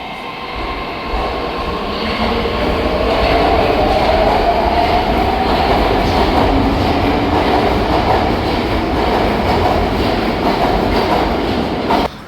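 A metro train rumbles loudly through a Saint Petersburg subway station, its wheels clattering and the motors droning as the sound swells and holds steady near the platform, with no talking.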